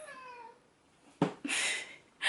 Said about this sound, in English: My cat is trying to talk along with me.